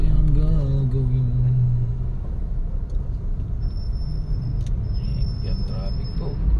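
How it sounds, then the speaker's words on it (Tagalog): Road traffic on Mabini Street in Barangay Burgos, Montalban, Rizal rumbles steadily and close by, with a vehicle engine droning low and shifting pitch early on, a few faint high squeals later, and a voice speaking over it. "Yan traffic po."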